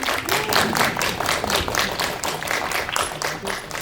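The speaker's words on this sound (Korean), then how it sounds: "박수 한번 부탁드리겠습니다" Audience applause fills a drama series press conference hall, steady dense clapping from a crowd throughout, loud and continuous with no talk over it.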